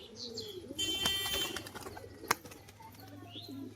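A pair of yellow-eyed pigeons sold as a breeding pair gives soft, quiet coos and a brief flutter of wings, with one sharp click in the middle. No one speaks.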